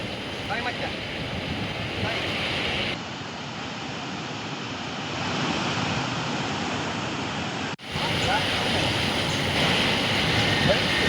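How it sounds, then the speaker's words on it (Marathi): Water released through the 11 opened gates of the Majalgaon dam in Beed rushes as a continuous loud roar, heard under a narrator speaking, with wind buffeting the microphone. "जवळपास एकतीस हजार क्युसेकनं पाण्याचा हा विसर्ग सुरू आहे"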